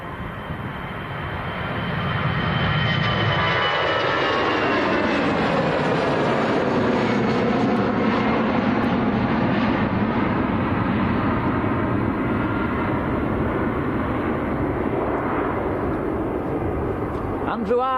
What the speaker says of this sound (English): This is EasyJet going down to the south of France, Nice.